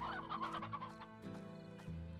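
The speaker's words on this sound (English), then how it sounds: "More chickens every time." Chickens cluck in the video game Slime Rancher, a busy run of short, close, fairly loud calls with no talking over them.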